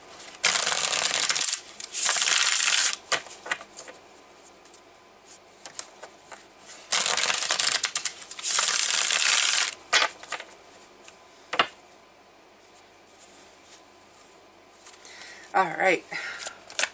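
Tarot cards from the Morgan Greer deck are shuffled in several loud riffling bursts, with soft handling sounds and a brief spoken remark in between.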